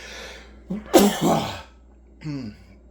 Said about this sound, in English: Get ready to sneeze